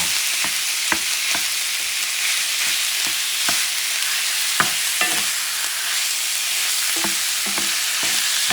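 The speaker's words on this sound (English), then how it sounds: "you want the ground meat to cook" Ground meat for pasta picadillo frying in a pan, a loud, steady close sizzle broken by irregular scraping spoon knocks as it is stirred.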